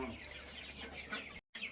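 Young chickens growing up cluck and chirp softly in a group, a faint busy chatter of overlapping calls that continues with a brief gap near the end.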